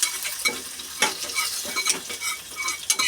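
Spices for a dal tempering crackle and sizzle in hot oil, a steady close frying hiss with sharp spattering pops and a few stirring scrapes, no voices.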